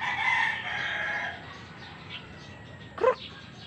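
A small bantam rooster crowing in a stretched call at the start, fairly near, followed by quieter background noise and a short sharp yelp-like sound near the end.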